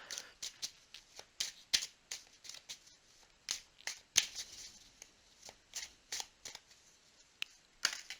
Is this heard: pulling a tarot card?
yes